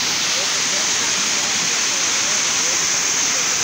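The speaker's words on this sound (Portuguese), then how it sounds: "Essa aqui é a cachoeira Cascata do Português." Waterfall at the Cascata do Português cascade, a steady, loud broadband rush of falling water heard up close, continuous throughout with no pauses, the roar filling the scene alone without talk.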